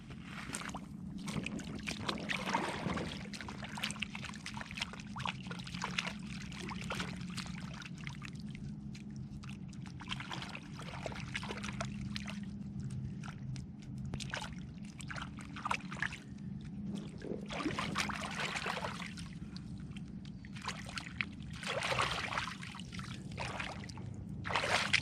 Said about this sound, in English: I'll go down to the river and clean this up.